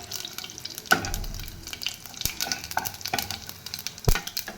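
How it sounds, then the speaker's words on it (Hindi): Cumin and mustard seeds fry in hot refined oil, giving soft sizzling with scattered sharp pops and crackles, close and fairly quiet. "तेल गरम हो गलानी। एबे जीरा सोरिष पकई देबा।"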